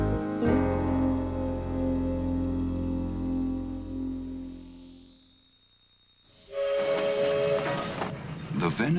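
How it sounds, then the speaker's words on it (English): The Venice Simplon Orient Express luxury train, a sustained low rumble of the moving carriages with a tonal whistle-like hum that fades out, then a bright metallic screech or whistle resumes loudly. "The Venice Simplon Orient Express. Naturally, the most luxurious train in the world."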